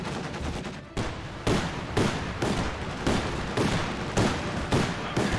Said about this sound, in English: providing some fire support.